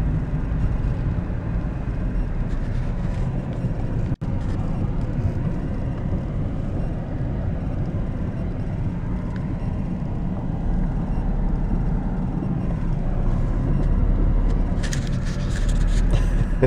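A car drives slowly around a storm-devastated cemetery, its steady engine and road rumble close and continuous throughout, with a brief gap early on and a faint hiss near the end.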